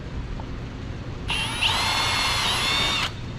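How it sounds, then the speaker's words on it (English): A power drill whirs steadily for almost two seconds, loud and close, biting through the roof panel of a Polaris RZR XP 1000 side-by-side before cutting off, with low background rumble throughout. "We're going to drill straight through."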